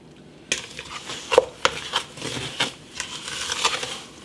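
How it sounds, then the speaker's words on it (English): Cranberry strawberry jam stirred in a pot, a series of close spoon scrapes and knocks against the metal at an uneven rhythm. "Now I'll give this a good stir."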